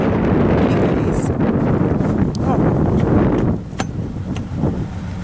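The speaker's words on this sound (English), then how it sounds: "It's a windy and snowy day" Steady, loud wind buffeting the microphone for the whole stretch on a snowy day, easing a little toward the end, with a few faint sharp ticks over the rumble.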